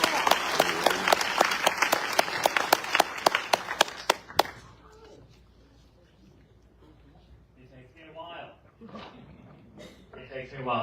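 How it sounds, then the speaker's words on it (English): An audience applauds to welcome Mr. Tim Vincent, president of Brothers of the Desert, at an evening gathering on a day of national protest in Palm Springs, CA. The applause is dense and loud, then cuts off and gives way to quieter murmuring and talk. "Let's give a big round of applause,"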